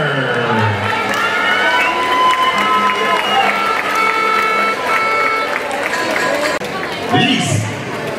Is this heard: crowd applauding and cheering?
yes